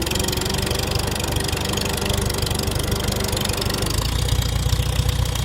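Antique tractor engine running in first gear, a loud, steady mid-pitched chugging with a rapid firing rhythm that continues throughout, close by and with no voices.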